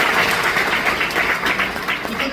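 A seminar audience in Damoh claps in a brief burst of loud, dense applause, close and energetic, lasting only a couple of seconds.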